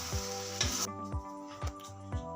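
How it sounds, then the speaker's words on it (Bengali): Chowmein stirred in a pan over low heat gives soft sizzling under a sustained musical tone, punctuated by four or five regular scraping strokes of the spatula. "আমরা লো হিটে রাখবো এখন সারাক্ষণ নাড়তে হবে"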